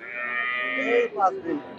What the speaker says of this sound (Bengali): ছোট্ট একটা বাছুর, ফুটফুটে বাছুর